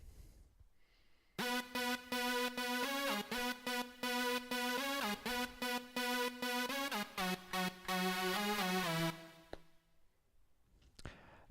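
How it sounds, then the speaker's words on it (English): Heavy, distorted synthesizer layer plays a choppy melodic line of repeated notes, dense and gritty, loud and alone, cutting off with a short quiet tail. "It's just a really heavy, distorted synthesizer."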